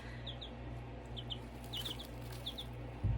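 Baby chicks gathered in a small bin give short, high peeps in quick pairs and little clusters, near and fairly soft over a low steady hum, ending with a brief thump.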